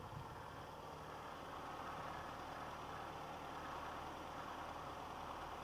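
A 1974 Austin Allegro SDL two-door sits with the bonnet up, its engine idling slightly high in a steady, continuous hum that holds at an even level throughout, with no one talking over it.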